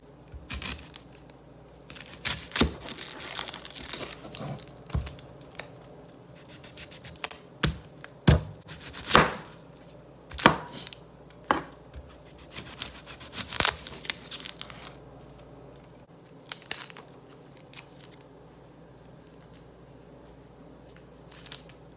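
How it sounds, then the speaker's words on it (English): An onion being peeled by hand: dry papery skin crackles and tears in irregular bursts, close and fairly loud, thinning out toward the end. "I started peeling the onion instead of chopping the onion"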